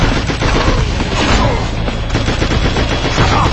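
Loud, dense gunfire fills SpyHunter Nowhere To Run, a continuous roar of rapid shots and booms close up with no pause.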